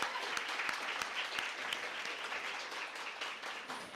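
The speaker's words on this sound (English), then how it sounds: "can we have one more round of applause for all the nominees, all the winners, all of our sponsors?" A student news awards audience breaks into sustained applause, many hands clapping in a dense, even roar with a few louder individual claps standing out.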